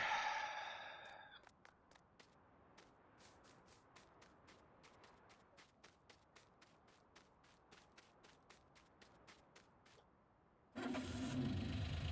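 Utility vehicle (Gator) engine cranking and catching in a farming simulator game, with a rapid series of starter clicks over a low rumble before the engine bursts into a loud running roar near the end.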